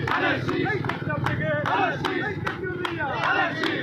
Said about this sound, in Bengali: তালে তালে তাল মিলিয়ে একসাথে তালি মেরে জোরে একটু আরো জোরে